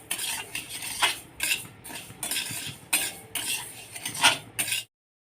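Dry rice grains being roasted and stirred in a kadhai while making metkut, with a spoon scraping and clinking against the pan in steady, repeated strokes, close and fairly quiet, without talk.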